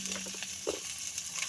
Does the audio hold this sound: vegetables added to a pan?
yes